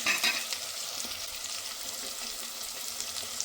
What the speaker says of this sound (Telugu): ఆనియన్స్ మంచిగా గోల్డెన్ బ్రౌన్ కలర్ వరకు ఫ్రై చేసుకోవాలి